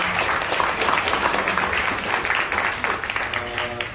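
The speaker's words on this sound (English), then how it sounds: "let's give him a warm round of applause" A church congregation at a Sunday worship service claps after the sermon, a steady wash of applause from many hands filling the room for several seconds.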